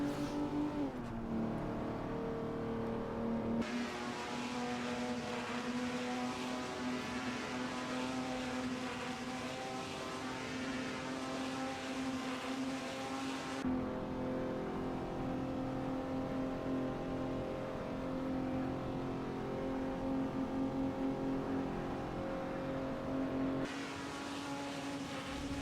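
Race cars in a Le Mans sim racing video game, a continuous engine whine holding steady then shifting pitch, with abrupt cuts between sustained passages over about twenty-five seconds.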